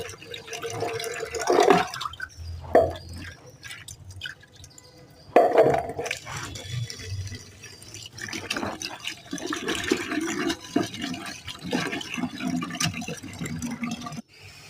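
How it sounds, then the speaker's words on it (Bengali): Food rinsed in water before cooking, with irregular splashing and sloshing and a few sharper clinks against a container, close and moderately loud, no talking. "এখন ধুয়ে নিচ্ছি, ধুয়ে নিয়ে তারপর রান্না করবো।"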